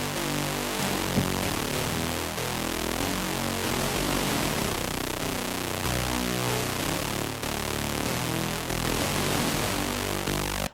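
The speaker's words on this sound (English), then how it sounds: "using synth patches to supplement or support the guitar tone such that it sounds like this big fat entity" A thick, loud wall of low distorted guitar blended with a sustained synth patch layer, droning continuously without pause, in a remake of a song.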